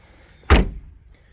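The trunk of a 1993 Cadillac Allante, parked for 15 years, is opened with a single short, close thud that fades quickly into quiet.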